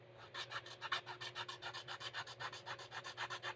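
Wood is sanded by hand along a tape guide, with regular back-and-forth rasping strokes about five per second. The strokes are close and even, over a faint steady hum, with no talk.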